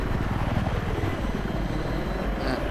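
A helicopter in the video game Battlefield 3 flies with a loud, steady rotor and engine drone that pulses rapidly and continuously, close and alone with no voices.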